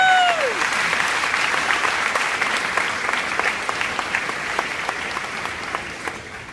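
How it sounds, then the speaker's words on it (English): Sustained applause from a high school graduation audience at St. Thomas Aquinas, steady dense clapping that stays loud for several seconds and tapers slightly toward the end, with a brief whistle at the start. "Can I get a round of applause"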